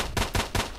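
Pistol fire in S.T.A.L.K.E.R. Shadow of Chernobyl: three sharp, evenly spaced shots ring out in quick succession, close and punchy, with brief decay between each.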